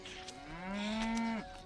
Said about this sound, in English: Her friends and Rich wander into a cow pasture, trying to flip cows for fun.